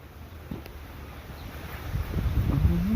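Cold wind blows across a backyard garden, buffeting the microphone with low rumbling gusts that grow stronger toward the end.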